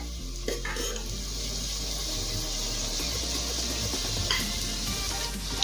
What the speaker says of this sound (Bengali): এখন দেবো ভাত, বাসি ভাত, আগের দিনের বেঁচে যাওয়া ভাত।